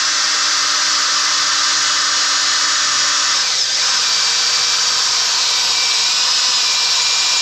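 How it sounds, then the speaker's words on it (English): A power drill whines loudly and continuously, its pitch shifting slightly partway through as it bites into material. "Just go through and drill this."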